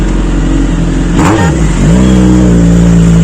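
A motorcycle engine is revved at full throttle: a loud, close steady idle rumble swells into a sharp rising rev, dips, then climbs and holds at a higher pitched roar.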